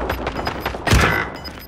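Gunfire in a battle royale video game: rapid shots followed by one heavy, booming report near the middle that trails off, with no talking.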